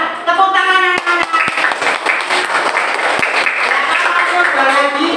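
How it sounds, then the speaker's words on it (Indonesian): Schoolchildren in a classroom applaud together, a dense burst of clapping under a teacher's voice, with a few sharp louder claps standing out. "Tepuk tangan anak-anak."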